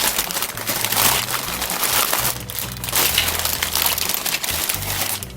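Brittle, nearly 29-year-old tape being gently cut on a plastic bag of white molded parts from a Lindberg 1964 Dodge 330 model car kit, with close crinkling and crackling bursts throughout.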